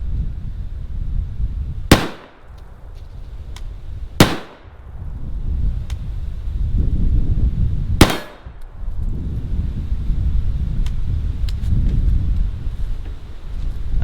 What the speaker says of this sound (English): So I just shot the bigger plate